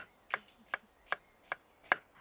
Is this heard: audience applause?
no